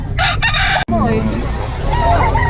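Chickens at a market, a rooster crowing and hens clucking loudly and close, with a brief dropout partway through and people talking under the birds.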